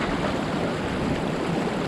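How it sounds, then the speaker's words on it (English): Rushing, raging river water at Ruby Beach, a loud, steady broadband roar of turbulent flow close by, continuous and without pauses. "Oh, that's a raging river."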